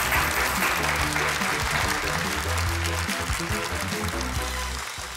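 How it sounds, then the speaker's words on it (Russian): Studio audience on a Russian TV quiz show applauding, with a dense, loud, continuous clapping that runs throughout and slowly fades toward the end. "Пойдемте ко мне сюда под аплодисменты нашей студии."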